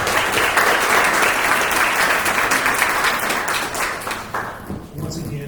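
Audience applause at a school board candidates forum, loud dense clapping that gradually thins and fades toward the end, with a voice speaking faintly over the tail.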